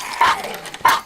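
A dog in a video game gives two short, sharp barks about half a second apart, loud and close, with a quiet background between them.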